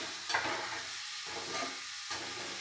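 Pieces fry in a pan with a soft continuous sizzle, and light stirring scrapes recur in short bursts. The sound stays fairly quiet and close, with no talking.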